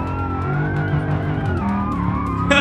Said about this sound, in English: I'm literally pushing the cop out of the way. That's what that Hellcat engine can do.